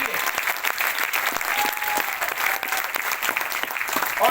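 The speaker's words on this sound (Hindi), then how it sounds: "सभी अचीवर्स के लिए जोरदार तालियां।" An audience at a direct-selling business event claps steadily for its achievers, a dense, even wash of applause lasting throughout with no break or fade.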